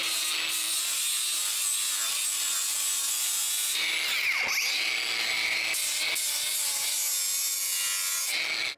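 A saw cuts through a wooden door threshold, producing a continuous harsh, rasping grind with brief pauses and shifts in pitch, close and loud with no talking.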